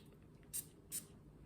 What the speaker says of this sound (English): let me go ahead and spray it